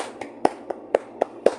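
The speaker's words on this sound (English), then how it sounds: "Alright, why am I clapping?" Hand clapping, about seven sharp claps in a slightly uneven rhythm, close and clear over a quiet background.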